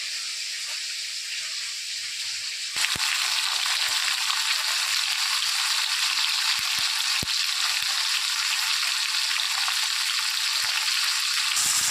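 Khoira fish fry in hot oil with a loud, continuous sizzling hiss that jumps in intensity after a couple of seconds and then holds steady, with occasional sharp pops and crackles.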